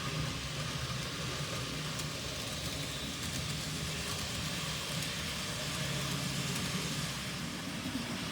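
An N gauge model train with a class 73 locomotive runs on a harbour layout, a continuous close whirring hum of even loudness throughout without talking.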